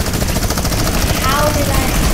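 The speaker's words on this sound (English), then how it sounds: "I accidentally shot there" Rapid gunfire rattles in an online shooting video game, loud bursts of dense automatic shots packed into about two seconds, with a voice faintly mixed in.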